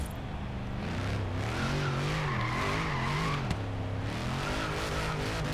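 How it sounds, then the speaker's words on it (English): A Dodge Charger does a burnout in Forza Horizon 3, with a steady engine drone that wavers in pitch under a constant hiss of tire squeal, loud and continuous. "Well, it definitely does a burnout."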